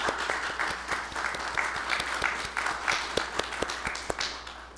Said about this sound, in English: And so can we give them some applause?